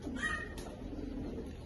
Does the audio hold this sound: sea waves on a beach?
no